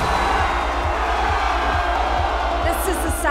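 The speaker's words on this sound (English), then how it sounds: "you're gonna have to roar." A large crowd at a Houston Public Works graduation celebration roars and cheers loudly and continuously, with high whoops cutting through near the end.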